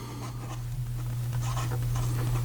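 A Pilot Custom Urushi fountain pen with a medium 18-karat gold nib scratches steadily across paper in a close, continuous stroke pattern over a low steady hum, with no one speaking.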